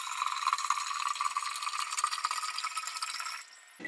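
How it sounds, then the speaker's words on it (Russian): Leftover pear mash liquid is poured into a glass jar, a steady close trickling and splashing stream that runs for several seconds before stopping abruptly. "И теперь остаток сюда выливаю."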